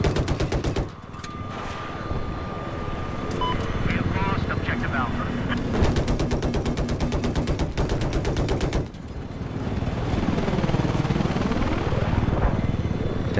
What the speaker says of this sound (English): Oh, the attack chopper